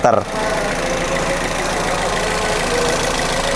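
Car engine idling, a 1500 cc four-cylinder Toyota 1NZ-FE, a steady close mechanical hum with a faint rhythmic tick after a brief knock at the start.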